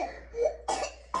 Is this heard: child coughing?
yes